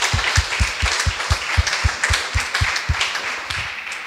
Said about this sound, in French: on va l'applaudir déjà pour commencer